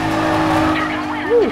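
Nissan Skyline race car cornering in Need for Speed Carbon, a steady engine drone with a rising tire squeal near the end, heard under speech.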